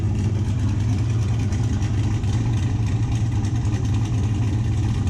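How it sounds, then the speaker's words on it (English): A truck fitted with a TSP stage 4 cam idles with a loose exhaust, giving a steady, dense low rumble with a continuous rattly texture, close and unbroken throughout. "Y'all hear another rattle? Is my exhaust is loose somewhere."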